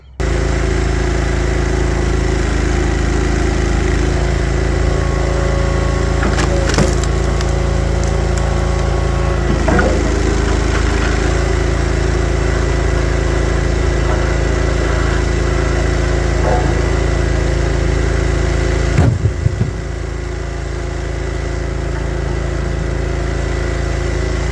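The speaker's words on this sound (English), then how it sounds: "let me get the splitter fired up" A firewood log splitter's engine runs steadily throughout, a loud continuous drone with occasional creaks and cracks of fir and maple rounds splitting, and a brief clunk near the end.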